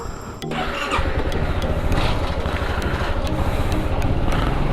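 A Honda Forza 300 scooter engine catches with a starter whir and settles into a steady, buzzy idle that keeps running close up and fairly loud, with no talk.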